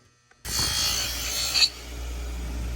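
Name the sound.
polishing wheel buffing anodized aluminum trim with Mother's aluminum polish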